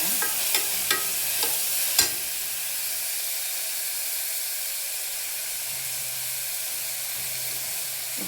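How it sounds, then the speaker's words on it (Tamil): Steady sizzling hiss of food frying in a pan, with a few soft clicks and taps of a utensil early on; no talking. "நல்லா வதங்கி விடுங்க."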